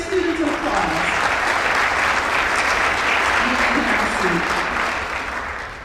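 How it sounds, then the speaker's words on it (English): Graduation audience at a Topeka high school mid-year ceremony claps loudly and continuously for standing students, a full sustained round with a few voices faintly audible underneath that tapers slightly at the end. "Let's give all of our CNA students an applause."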